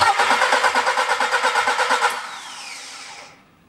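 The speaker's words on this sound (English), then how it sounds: "and I'm cranking the engine." A car engine cranked on a rig with a pressure tester's adapter fitted to the vacuum pump: a rapid, even, pulsing starter churn that then drops to a smoother, quieter whir before fading out.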